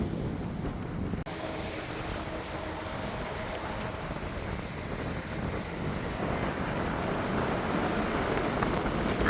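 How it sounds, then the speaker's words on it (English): A breeze blowing outdoors near an airport, a steady broad rush of air with wind buffeting the microphone, swelling slightly toward the end, no talk. "The breeze is blowing."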